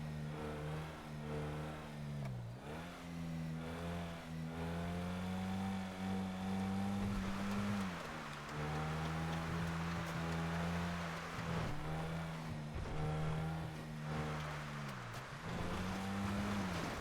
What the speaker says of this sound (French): Ma voiture elle fait tellement de bruit en même temps.